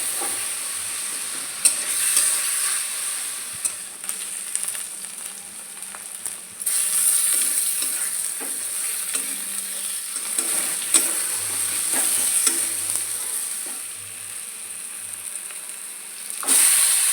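Chicken pieces frying in a pan with ground spice paste, a steady close sizzle with occasional scraping and stirring clinks throughout, no talking.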